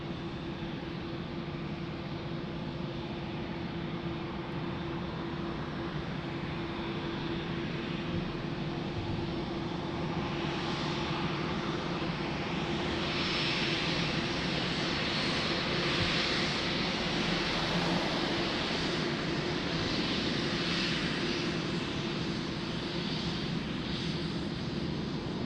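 A passenger airplane takes off at Lisbon Airport from runway 02, its engines roaring steadily and loud throughout, swelling slightly midway as it climbs.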